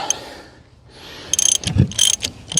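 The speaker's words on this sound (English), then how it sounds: "I have to take these 2 bolts out because this oil filter housing gets bolted up to the head bolts." Bolts being taken out of an oil filter housing on an old car that has sat for 30 years: a short metallic ratchet burst, then clinks of tools after a quiet moment, close and loud.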